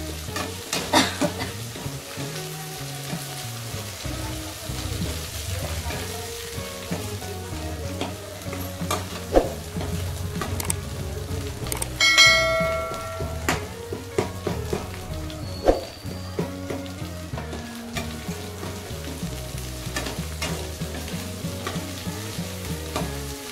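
Green chillies fry in hot oil in a pan, giving a continuous crackling sizzle with occasional stirring clinks and scrapes, fairly close and without talk.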